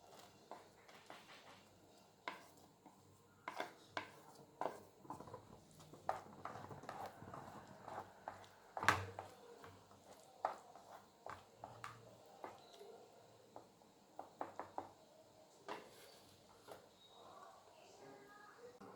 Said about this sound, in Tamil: வெஜிடபிள் போட்டு மிக்ஸ் பண்ணிட்டோம்.